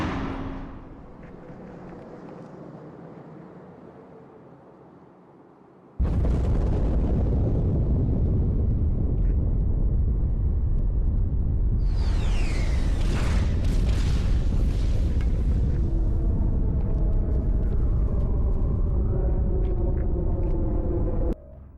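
Wraith mortar blasts in Halo 2, a heavy booming explosion followed by a sustained loud roar and rumble, with further blasts and debris layered in, all close and overpowering.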